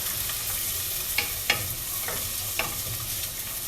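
Garlic and ginger sauté in a hot pan, a steady close sizzle with a few soft scraping stirs of a utensil at irregular intervals, no voices.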